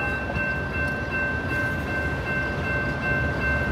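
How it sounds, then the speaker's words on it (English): A Metra commuter train passing through Elmhurst station, a steady loud rumble of rolling railcars with a sustained tonal hum over it, continuous throughout. "Danger, another train coming."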